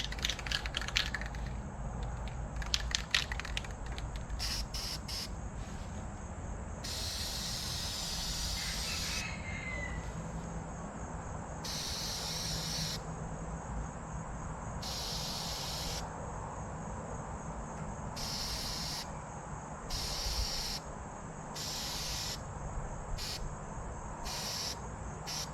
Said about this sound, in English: that is a good feeling when you get to break out the brand new can of spray paint and it sprays so good